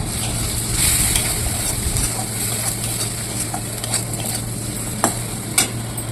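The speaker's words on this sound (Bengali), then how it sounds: "এবার সব মশলা ভালো করে কষিয়ে নেব।" Spice masala of red chili powder and cumin powder frying in a pan for a fish roe fritter curry, with a steady hiss of sizzling, a low constant hum beneath and a few sharp stirring clicks, close by.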